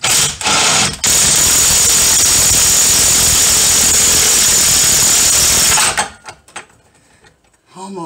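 An impact wrench zaps a bolt off a bracket on a C4 Corvette being lowered, a loud continuous whirring, hammering burst lasting several seconds with a brief break near the start, followed by quieter clattering.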